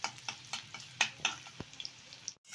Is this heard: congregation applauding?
no